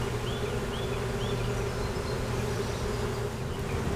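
Honey bees from a swarm buzzing around an open hive, a continuous dense drone with a few passing individual buzzes, steady and close with no talk.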